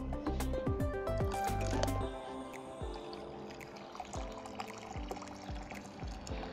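Hot water poured over a head of hair locs to rinse out baking soda build-up, a steady close splashing and trickling with wet squishing, heavier at first, then settling into a continuous pour.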